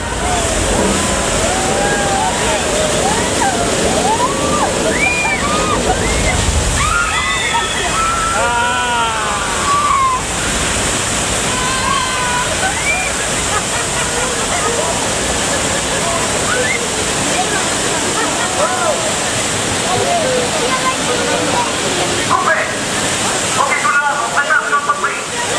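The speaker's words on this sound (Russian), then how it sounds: "Смотри, вода!" Water gushes loudly and continuously across a disaster-film set at a Disney studio, a dense roaring rush with sloshing, while people talk over it throughout.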